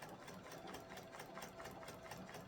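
A sewing machine stitching steadily on a landscape quilt project, with a continuous fast mechanical whir and rhythmic needle clatter, close but quiet, running without pause.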